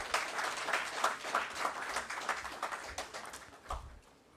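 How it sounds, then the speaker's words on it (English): An audience at a public forum on the collapse of the Bank of Ghana gives a round of applause, steady moderate clapping that gradually thins and fades toward the end. "Another round of applause, please."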